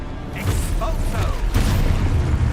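Expulso explosion spell cast in Hogwarts Legacy, a booming magical blast with mechanical crackle and a second heavy burst midway, loud and dense amid continuous game combat noise.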